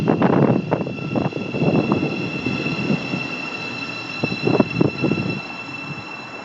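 A Meridian class 222 diesel train runs through Mill Hill Broadway station on the Midland Main Line, giving a steady rumble with clattering wheel thumps that rise and fall close by.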